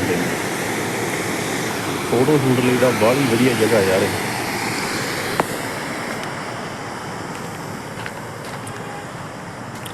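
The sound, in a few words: mountain water and blue canal water flowing together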